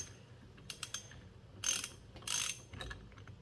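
A ratchet tightens a size 22 nut on a Yamaha Blaster engine during clutch-side assembly, a few quiet clicks followed by two louder rasping ratchet strokes and a final short burst.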